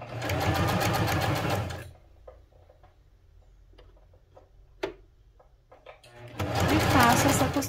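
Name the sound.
sewing machine stitching a safety seam along lace edge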